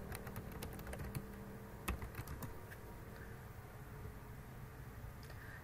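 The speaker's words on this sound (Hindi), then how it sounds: "हम दोबारा कीवर्ड लिखते हैं, clone are duplicate WordPress website." Quick bursts of keystrokes on a computer keyboard as a search keyword is entered, dense clattering at first, then thinning into scattered taps, close and fairly quiet with no speech.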